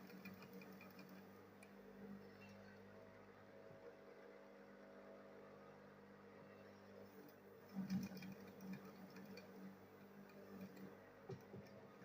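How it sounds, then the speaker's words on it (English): A sewing machine stitches fabric for a round circle handbag, whirring softly and steadily at a distance with faint ticking, and a brief louder clatter near the end. "So let me go ahead and sew these ones first."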